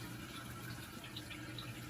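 A Kohler toilet tank refilling from its supply line after reinstallation, a steady faint hiss of rushing water with soft trickling, continuous and close by with no talking.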